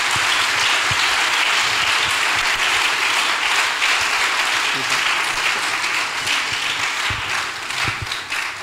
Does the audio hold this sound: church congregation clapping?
yes